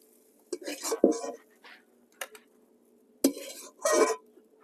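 Metal spatula scraping and clattering in a wok as mashed drumstick leaves are scooped onto a plate, a few short bursts of clinks and scrapes separated by quiet pauses.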